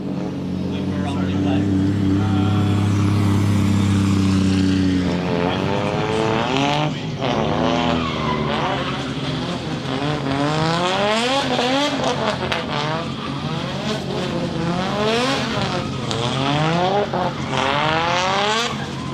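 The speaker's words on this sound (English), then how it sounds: "Shane King, best sounding car on the grid every year." A drift car with a CA18 engine racing at Meremere Drift Park, revving hard in repeated sweeping surges with tires squealing, loud and close, with a commentator talking over it.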